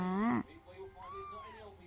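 A one-week-old orphan black kitten gives a loud, high, drawn-out meow up close, followed by fainter mewing and a voice speaking.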